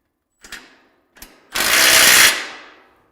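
Ratchet turning a 3/4 inch socket to tighten a bolt on mobile shelving rails: two short clicks, then a loud, continuous burst of rapid ratcheting that fades out, with no talking.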